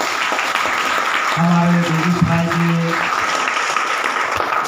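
Audience applause at a Begusarai, Bihar event, a dense rolling clatter of clapping that swells in the middle, with someone speaking over it.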